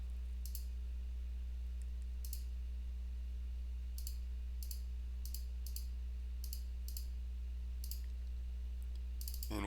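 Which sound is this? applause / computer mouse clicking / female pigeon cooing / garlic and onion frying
computer mouse clicking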